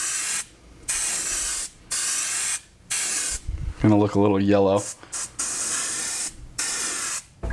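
An airbrush sprays paint onto a pike fishing lure in short hissing bursts separated by brief pauses, with someone speaking briefly in the middle.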